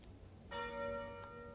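The Calling Bell relic rings in the Slay the Spire video game. A single bright, resonant bell strike sounds about midway through and hangs in a sustained ringing tail over faint background hum.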